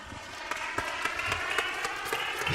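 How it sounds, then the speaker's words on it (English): An audience at an educational equity forum applauds steadily, a brief even patter of many hands clapping at moderate distance without voices. "Huge claps for you, Shanae, and Lift Every Voice"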